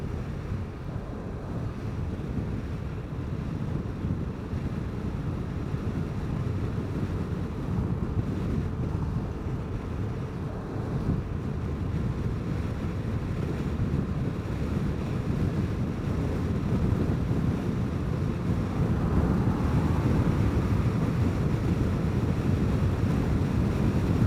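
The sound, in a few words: strong wind blowing while riding a Vespa scooter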